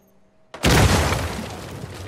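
A dynamite blast in the game Uncharted 4 bursts suddenly after a quiet moment: one loud, sharp, broadband boom that rolls into a long, noisy rumbling tail, with no talk over it.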